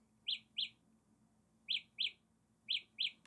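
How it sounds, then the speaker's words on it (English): Electronic chirps in three pairs, high and bird-like, fairly faint over quiet background, with short pauses between each pair. "Kind of sounds like a bird chirping."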